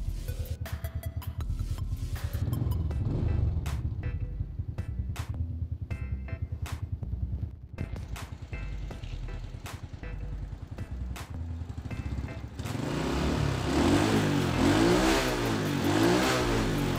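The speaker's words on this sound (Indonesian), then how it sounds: "Untuk kondisi mesin ini masih halus, tidak ngasep ya bosku." A Honda Supra motorcycle engine runs at idle with a steady low putter, blipped several times into short revs, then revved harder and held near the end, close and loud.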